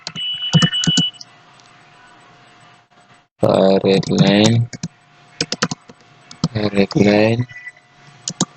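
Typing on a computer keyboard while entering JavaScript code, heard as close, crisp key clicks in short bursts, with a person talking between and over the keystrokes.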